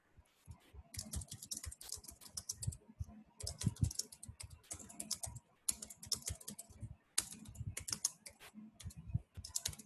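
Fast typing of code on a computer keyboard, with quick, irregular key clicks in steady runs and brief gaps, fairly close and fairly quiet.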